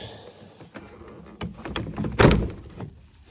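Plastic door panel clips on a 2005-10 Chevy Cobalt pop out in a few sharp snaps, with a louder thunk as the panel comes loose, all close up and without talk.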